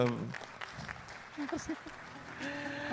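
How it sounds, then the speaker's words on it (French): Applause from a conference audience after a talk on the maritime economy, moderate diffuse clapping mixed with voices, brief tonal snippets and background music. "Et je vous prie de l'applaudir."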